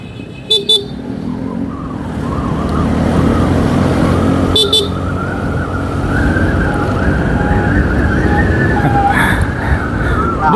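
A car passes close on a road with a steady engine and tire rumble, a few short horn toots near the start and middle, and voices briefly audible over the traffic noise.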